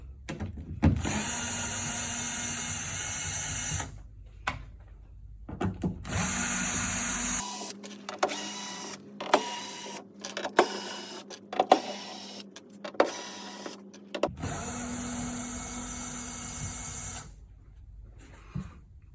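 Screws being removed from a Silverado tailgate panel with a power drill, several whirring bursts of the drill separated by pauses, with clicks and rattles of handling in between and no talk.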